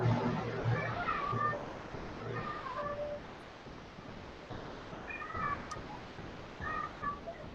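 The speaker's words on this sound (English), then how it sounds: "sorry about the cat, Michael." A cat meows several times, a few short cries spread across the clip, heard over low background noise and murmuring.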